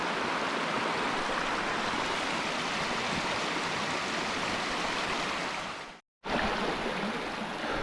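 A rushing stream with small waterfalls in Cumbria's Lake District pours steadily as an even, close, hissing wash of water, briefly cutting out near the end before resuming.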